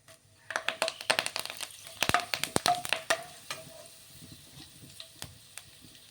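Half a spoon of cumin seeds and two sprigs of curry leaves crackle and pop in hot oil with mustard seeds for a cauliflower potato curry, a burst of sharp close spits that slowly thin out to occasional pops.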